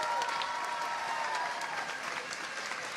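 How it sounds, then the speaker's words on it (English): Sustained applause from a large crowd at a school graduation ceremony, steady and moderately distant, with many hands clapping together and no pauses. "how about a nice round of applause for our class"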